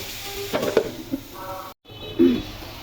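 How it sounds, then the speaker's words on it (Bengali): Potatoes sauté in spiced oil in a pan for a vegetable curry with hilsa fish head, giving a soft sizzle with a few brief spoon scrapes and clatters over about three seconds, broken by a short silent gap. "এখন আলুগুলো দিয়ে প্রথমে আলুগুলো দিয়ে কষিয়ে দিব"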